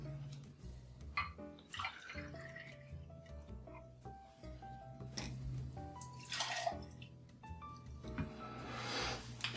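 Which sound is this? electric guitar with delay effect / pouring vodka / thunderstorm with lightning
pouring vodka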